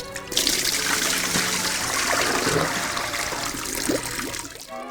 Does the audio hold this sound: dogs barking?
no